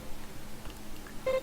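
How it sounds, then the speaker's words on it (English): A computer in a video game emits short electronic beeps, faint and brief, near the end of a quiet stretch of low background sound. "Listen to the infernal beeping?"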